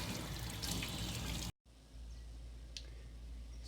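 Running water pours over a plant leaf being rinsed under a tap, a soft, steady splashing rush that cuts out abruptly and then returns as a quieter, thinner flow with an occasional faint drip or click.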